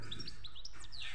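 A healthy goldfinch chirping in quick, bright, high tweets, a rapid series of short notes close by with no talk.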